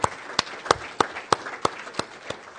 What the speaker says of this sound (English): So if we can give everyone a big round of applause